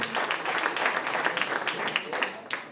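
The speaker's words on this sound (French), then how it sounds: "Je pense qu'on peut l'applaudir parce qu'elle est très réussie" Listeners at a cycling race presentation in the Landes applaud a newly unveiled poster, a short burst of moderate clapping that swells and then tapers, with a voice speaking over it.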